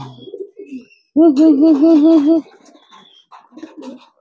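A male pigeon coos loudly and close in courtship, a rolling, throbbing series of warbled coos lasting about a second, with softer bird murmurs and light handling sounds around it.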